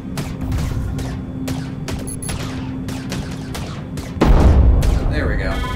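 Torpedoes fire and explode in a large fleet battle in the VR space-combat game Starway Fleet, with dense rapid bursts of gunfire-like blasts and a louder booming impact near the end, all under a steady background hum.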